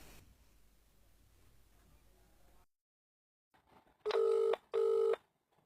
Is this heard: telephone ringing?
yes